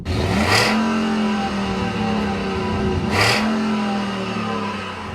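A loud 6.2L Ford pickup engine revs up sharply twice, each roar rising then settling into a steady rumbling idle between bursts, close by with no talking.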